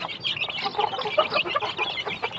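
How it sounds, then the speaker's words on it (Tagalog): A dense chorus of high, overlapping cheeps from many young chicks crowded together in a coop, continuous and close with no pauses. "Ito yung mga sisiw natin, guys."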